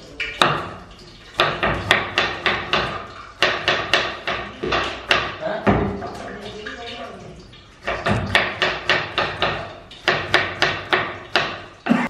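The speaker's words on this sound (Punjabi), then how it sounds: "ਮੈਂ ਪਿਆਜ਼ ਕੱਟ ਲਿਆ" Onion being finely chopped with a knife on a board for a Punjabi chicken curry, giving fast rhythmic runs of sharp knocks in several bursts with brief pauses between, close and loud.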